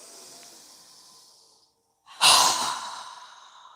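A long inhale through the nose, then after a brief pause a forceful, airy exhale through a wide-open mouth during a yoga breathing exercise, loud at first and trailing off as a soft hiss.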